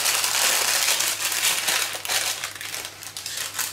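Baking paper is pulled off a freshly baked, light chocolate sponge cake, producing close, continuous crinkling and crackling for several seconds with no talking.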